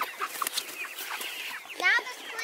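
Several broiler chickens cluck and chatter close by in quick, overlapping calls, with a louder squawk near the end and a voice faintly underneath.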